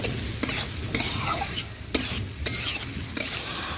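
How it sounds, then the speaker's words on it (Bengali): Chicken pieces being stirred and fried in a pan with little liquid left, a close, steady sizzle broken every half second or so by scraping strokes of a spatula against the pan, with no talk. "নাড়াচাড়া করে আবারও কিছুক্ষণ কষে নিচ্ছি"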